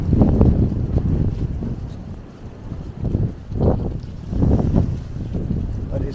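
Strong wind on an island on a rainy afternoon roars and buffets the microphone in gusts, loud and close, rising and falling throughout.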